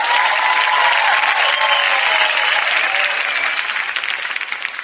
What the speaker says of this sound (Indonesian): Tepuk tangan dulu untuk Bang Peor.